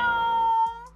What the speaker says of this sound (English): Wait, why is that cat in here?